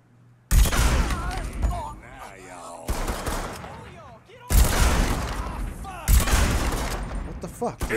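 Bursts of gunfire from the video game Mafia 3, four loud volleys of rapid shots separated by short quieter gaps, with voices talking between and over them.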